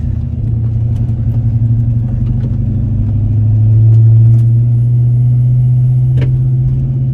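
A 1995 car lowered on coilovers rolls down a driveway, its engine giving a loud, steady low rumble that swells briefly midway, with a few faint clicks and knocks over the drone.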